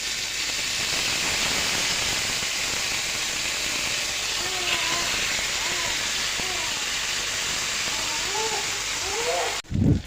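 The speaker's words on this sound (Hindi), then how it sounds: "मेरा ऑयल भी अच्छे से गर्म हो चुका है, इसमें मैं अपना जो है ना फिश फ्राई कर लूँगी।" Fish frying in hot oil on a home stove, a steady broadband sizzle throughout with bird chirps in the background and a brief clatter at the end.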